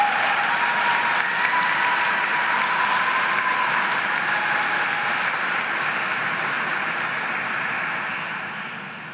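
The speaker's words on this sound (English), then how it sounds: "Can we have a round of applause for our newest Gold Humanism inductees?" Sustained round of audience applause for Gold Humanism Honor Society inductees at a medical school white coat ceremony, a broad even wash of many hands clapping that holds steady then begins to fade at the end.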